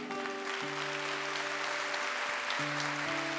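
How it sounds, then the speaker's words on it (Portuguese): A church congregation applauds in a steady, continuous wash of clapping beneath sustained organ or keyboard chords. "Pode aplaudir o Senhor"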